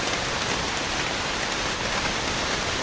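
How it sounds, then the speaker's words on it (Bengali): Heavy storm rain pours steadily across a garden with mango trees, heard from inside a small room as a loud, unbroken wash of noise with no voices. "সব জায়গায় বৃষ্টি।"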